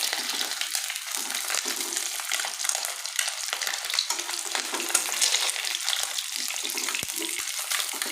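Eggs fry in hot oil in a pan with a dense, steady sizzle that runs close and unbroken, joined by occasional faint scrapes.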